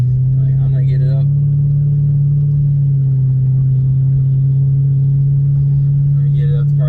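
A Lexus LS400 car being driven up to about 50 mph, its steady engine and road drone loud and constant throughout, with a voice talking briefly over it near the start and end.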